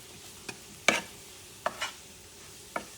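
Grated cauliflower rice cooks in a pan with a soft background sizzle, and a few sharp spoon scrapes and stirring knocks sound over it, quiet and close.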